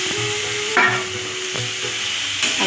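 Potatoes being stirred into a spice paste whose oil has separated, with a few distinct scraping strokes of a spoon against the pan over a soft sizzle.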